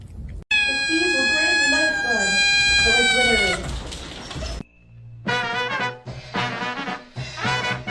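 Loud, close kitten meows, drawn-out and wavering, followed by a voice talking in short bursts.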